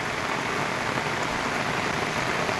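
Heavy monsoon downpour in the Konkan countryside, a dense, steady roar of rain hitting surfaces, loud and unbroken throughout with no voices.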